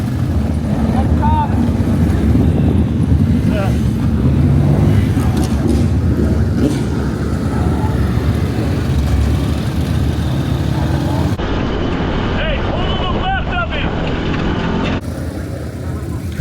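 Midget race car engines in the iRacing simulator at Coles County track: a continuous engine drone with rising and falling revs, steady and fairly loud, with a voice talking over it.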